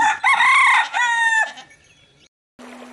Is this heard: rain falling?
no